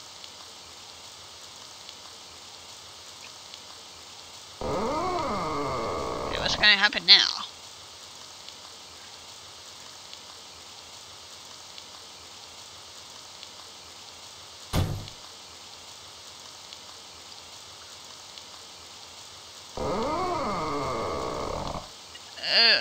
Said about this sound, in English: Instead we have rain.